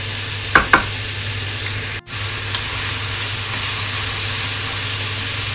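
Dinuguan ingredients fry in a pan, a steady close sizzle with two quick stirring scrapes early on.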